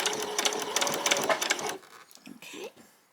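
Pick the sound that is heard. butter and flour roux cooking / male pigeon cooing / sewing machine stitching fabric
sewing machine stitching fabric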